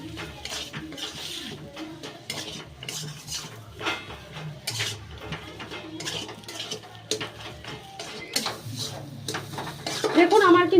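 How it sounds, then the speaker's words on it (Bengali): Spoon scraping and clattering in a pan while fish chop filling is stirred together with garam masala and chopped coriander, steady close-up scraping and knocking with brighter clinks near the end. "এবার এই গরম মশলা আর ধনেপাতার সাথে কিন্তু পুরটাকে আরো ভালো করে মিশিয়ে নেব।"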